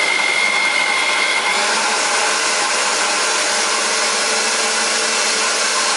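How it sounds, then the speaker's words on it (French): Electric chopper mincing meat for nems: a loud, steady motor whir running continuously, close up, with no talking. "Et hop, nous allons hacher la viande."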